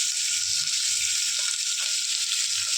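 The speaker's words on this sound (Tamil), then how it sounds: "இப்போ எடுத்து வச்ச வெங்காயத்தை போட்டுக்கிறேன் வெங்காயம் பச்சை மிளகாய் போட்டுக்கிறேன்" Onions and green chillies sizzle steadily in hot oil, a continuous close hiss of frying with no voices over it.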